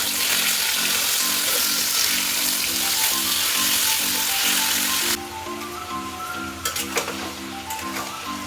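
Fish coated in salt and turmeric sizzling in hot oil in a kadai, a loud, continuous crackling hiss that eases slightly partway through, with light spattering and utensil clinks.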